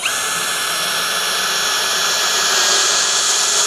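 A cheap cordless hammer drill, set to high torque in screwdriver mode, drives a screw with a steady, loud, close motor whine that holds unbroken throughout, with no talk.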